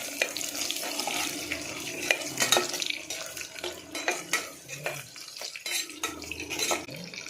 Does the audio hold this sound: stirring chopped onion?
yes